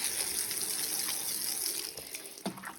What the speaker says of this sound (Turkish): ben şimdi de balkonu yıkamaya başladım